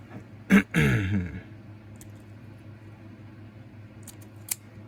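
Wires for a DS Lite portable charger build being trimmed with cutters: two sharp snips close together near the start, then faint small clicks and ticks over a quiet background hum.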